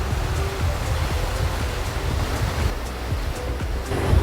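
Ocean waves and surf roll onto the shore at San Juan del Sur, Nicaragua, a continuous loud wash of breaking water with wind rushing over it.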